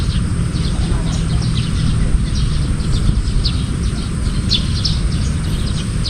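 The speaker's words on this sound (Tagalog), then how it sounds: "Yung solar na tumutunog na parang Parlawin." A solar-powered bird scarer mounted under a house gives repeated high, hawk-like shrieking calls over a steady bed of background noise, fairly far off and continuous.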